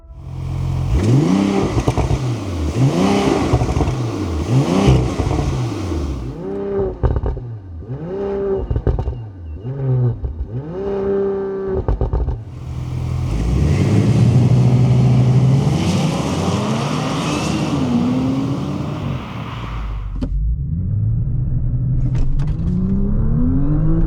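A 2027 Audi RS5 engine revs repeatedly in quick rising and falling sweeps, then pulls through a long loud acceleration with gear changes, heard close and alone.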